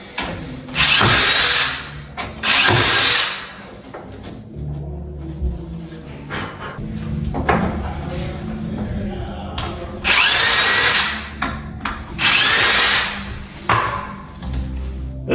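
A power drill bores a hole through a door for an EMTEK single-sided deadbolt, running in several loud bursts of whining drilling with quieter pauses and handling noise between them.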